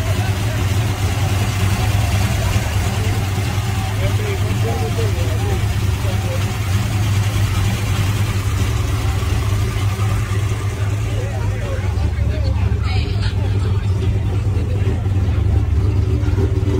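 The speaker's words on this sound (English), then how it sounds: "Well, old school engine. One carburetor, big block." An old-school big-block car engine with a single carburetor idles steadily and loudly up close, a deep continuous rumble throughout with a brief rev near the end and people talking over it.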